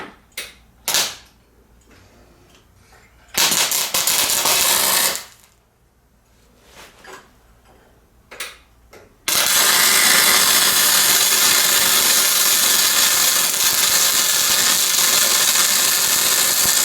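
MIG welding with .035 solid wire and no shielding gas: short crackling bursts near 1 and 4 seconds, then a long, loud, continuous harsh crackle and sputter from about 9 seconds to the end.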